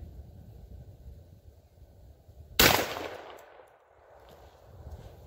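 A Tristar Viper G2 28-gauge semi-automatic shotgun fires a single 3/4-ounce 8-shot load outdoors during a pattern test: one sharp, loud blast that trails off into a fading echo.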